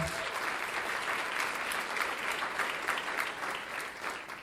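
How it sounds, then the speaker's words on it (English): An audience at a Salute to Women awards breakfast gives a round of applause for the marketing team, a dense, steady crowd clapping that holds evenly throughout and tapers slightly at the end. "let's give them a big round of applause too"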